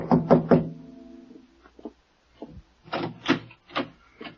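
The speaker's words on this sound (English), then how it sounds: "I tapped on the door" Three quick, crisp knocks on an apartment door in an old-time radio drama, followed by a few scattered softer taps and wooden clunks against a quiet background.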